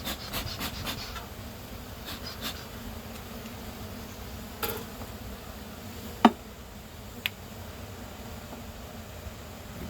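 A soft, steady buzz of honeybees at an open hive hums at low volume throughout, with a few brief clicks and knocks breaking through the drone.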